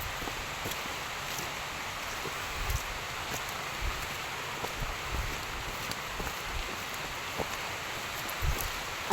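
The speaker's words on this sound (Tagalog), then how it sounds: "Umuulan na guys." Soft, steady rain hisses evenly in the background, with faint scattered patters and occasional light rustling.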